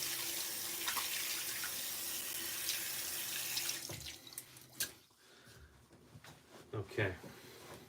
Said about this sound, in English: I'm gonna wash it off my hands because I don't want it in my beard